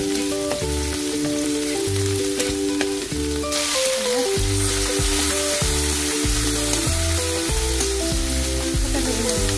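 Garlic frying in oil for squid adobo makes a constant sizzle under loud rhythmic background music with a pulsing bass beat.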